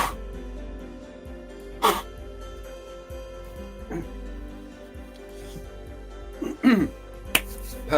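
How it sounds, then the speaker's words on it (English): A single sharp sneeze bursts out early on, followed by a few more brief snaps and clicks over a quiet background hum near a slot car track. "I think I'm going to sneeze."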